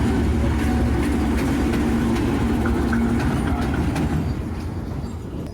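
A passenger train rake pulls away from Karachi Cantt station, heavy rolling rumble with faint rhythmic clicks of wheels over rail joints, steady and close, then easing slightly as it moves off.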